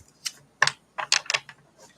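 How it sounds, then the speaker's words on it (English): A deck of tarot cards being shuffled: a string of short, crisp papery bursts in uneven clusters, close and fairly loud, with no voices. "These cards do not want to split. They don't want to shuffle."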